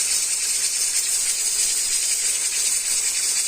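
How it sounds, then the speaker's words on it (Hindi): Chillies go into garlic frying in hot oil, and a loud, even sizzle holds steady throughout as a dense, bright hiss close by. No one speaks. "अब इसके अंदर मैं मिर्ची शामिल कर रही हूँ"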